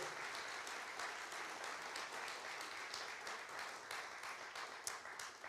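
In a church, a congregation applauds with steady, even clapping, heard faint and distant throughout.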